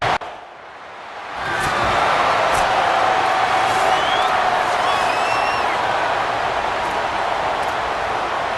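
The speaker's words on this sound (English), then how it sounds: "This crowd, full throat, splitting the eardrums" A stadium crowd at a Florida State versus Clemson rivalry game in EA Sports College Football 27 rises into a loud, sustained roar of cheering and whoops that fills the space, with high whistles cutting through.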